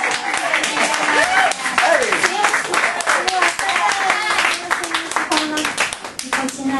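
A small audience gives scattered, lively clapping after a singer's self-introduction at an intimate live performance, while people keep talking and laughing over the claps throughout.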